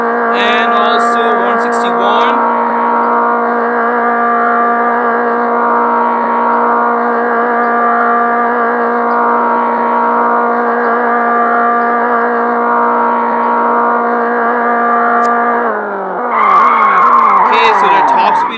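A Japanese car's engine in Extreme Car Driving Simulator holds a steady high-pitched whine while accelerating toward top speed, then shifts near the end with a rising rev as a voice talks over it.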